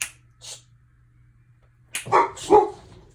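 A dog barks in a few short bursts: two faint, distant yips early on, then a louder cluster of close barks toward the end, with quiet surroundings in between.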